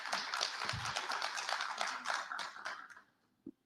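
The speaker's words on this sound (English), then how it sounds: "give a big clap" A big burst of audience applause at a women-in-trade session, dense clapping sustained for about three seconds before stopping abruptly, with one stray clap after a pause.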